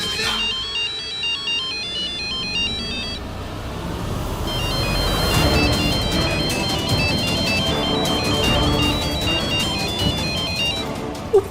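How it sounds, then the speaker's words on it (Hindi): A mobile phone ringtone plays a repeating electronic melody that rings on unanswered, clear at first and then continuing under a swelling background score. "वो फोन नहीं उठा रही।"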